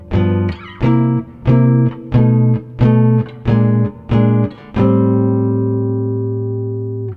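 Jazz guitar strums a blues move from the 1/7 chord to the 5/7 chord in seven short, evenly spaced chord stabs, then lets a final chord ring out and slowly decay, clear and alone.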